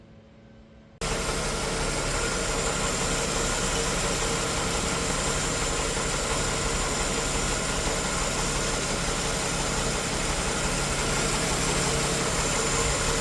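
A warmed-up AMC 258 inline-six idles steadily and evenly close by, cutting in abruptly after a second of quiet and holding a smooth, constant rumble.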